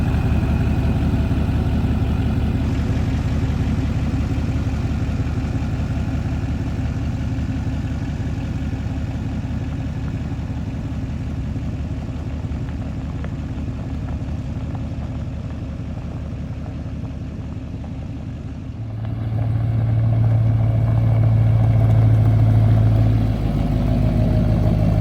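An Isuzu D-Max pickup's diesel engine idles with a steady low clatter and rumble, then grows louder and deeper as it pulls away and drives off, close by and with no talking.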